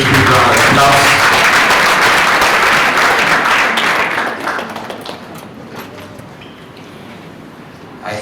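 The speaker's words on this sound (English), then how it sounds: "a big round of applause" Audience applause fills a hall at a banking and finance institute graduation ceremony, loud and dense for about four seconds before thinning to scattered claps with murmuring.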